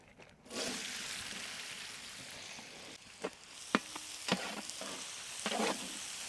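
Finely chopped onion sizzles steadily in hot oil for potato stuffing, a dense hiss broken by a few sharp clinks and scrapes of a spoon against the pan.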